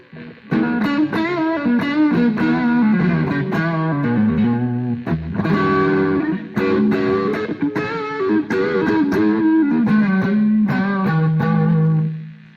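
An HSS Strat-style electric guitar on its neck pickup plays a continuous run of distorted notes and chords with chorus-like effects, loud and sustained, with no talking.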